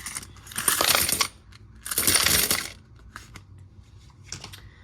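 A small handful of coins poured into a tip jar in two clattering bursts, each about a second long, followed by a few faint clinks and rattles as they settle.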